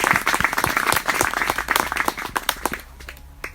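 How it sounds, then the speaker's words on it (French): A crowd at an outdoor mountain sermon applauds with dense, loud clapping that thins into a few scattered claps and fades toward the end. "Applaudissez pour nous."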